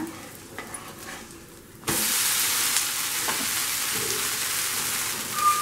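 Dosa frying in ghee on a pan, quiet at first, then an abrupt loud, steady sizzle that fills the rest of the clip, close and continuous.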